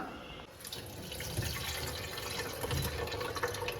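Water drains and trickles from soaked poha (flattened rice) in a kitchen. The splashing runs steadily and close.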